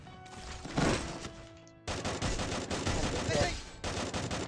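Rapid bursts of video game gunfire crackle in quick succession, fairly loud, with a voice talking over the shots.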